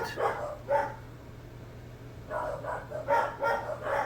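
Several dogs barking in a home: a pair of sharp barks, a pause over a low steady hum, then a clustered run of yips and barks, moderately loud and slightly distant.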